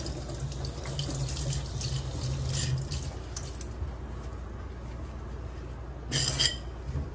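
A kitchen tap runs continuously as a cloth is wetted, giving a steady rushing hiss of water with a brief louder splash near the end, close by.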